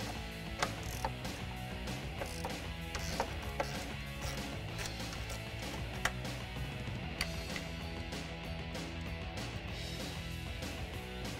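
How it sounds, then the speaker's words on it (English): A 1/4 inch drive ratchet turning a 10mm deep socket to remove bolts on a 2018 Jeep Wrangler JL, giving rapid continuous clicking, close and steady, with no talking. "I'm using a 10mm deep socket and a 1/4" drive ratchet since it is smaller to get that off."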